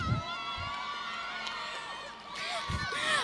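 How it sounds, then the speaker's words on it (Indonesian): An audience cheers for the university rector at an open day, a faint, distant crowd of whoops and shouts with varied high voices and soft bumps. "Tepuk tangan dulu untuk rektor kita."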